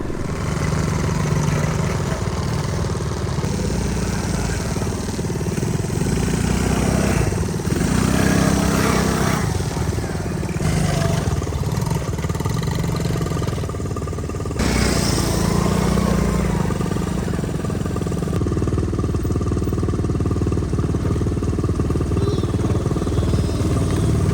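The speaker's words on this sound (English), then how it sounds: "the ATC125 goes down these rocky trails" Vintage Honda ATC125M three-wheeler crawling down a rocky off-road trail, its small engine running loud and continuously, rising and falling with the throttle amid rattling clatter, with no talk.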